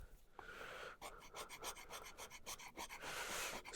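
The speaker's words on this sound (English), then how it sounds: "Scrape all that stuff off." Rhythmic rasping strokes as glue is scraped off a hand-carved oak watch holder, a steady run of about a dozen close, fairly loud scrapes with no talk.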